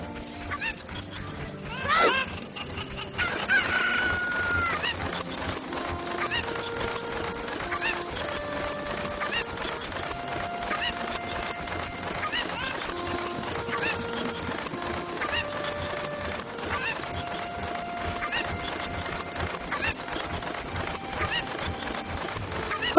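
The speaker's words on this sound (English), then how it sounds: "What are you doing to that chicken" A chicken in Ocarina of Time clucks in short honking bursts over continuous game music, while players talk faintly in the background.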